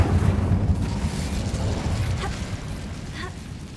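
A Bombarda explosion spell cast in the Hogwarts Legacy video game: a loud, deep rumbling blast that opens the moment and slowly fades into a dull roar, with faint sparkling crackles near the end.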